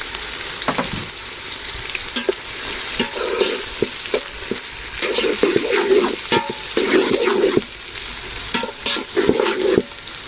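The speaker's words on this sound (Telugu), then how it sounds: "ఇవి బాగా వేగించాలండి." Chopped onions and green chilies fry in hot oil in a pan, sizzling loudly and steadily close by, with repeated clattering stirs and scrapes throughout.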